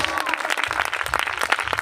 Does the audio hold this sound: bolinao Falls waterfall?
no